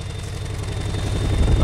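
A Pontiac Aztek engine with a steady service engine light runs roughly, giving a close, continuous low rumble that grows slightly louder over a brief moment.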